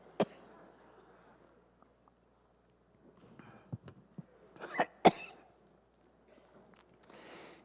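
Coughs and throat-clearing echo through a quiet church sermon: a few scattered, sharp coughs, with a cluster near the middle and the rest well spaced, against a hushed room.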